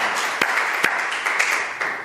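A church congregation applauds to welcome a couple at a Sunday service, a dense steady patter of many hands clapping for about two seconds with a few sharper claps standing out.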